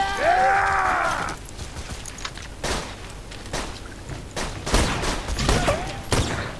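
Gunfire from a pistol in the video game Borderlands 2. Several sharp shots are spaced out over steady game background noise, following a brief whooshing tone at the start.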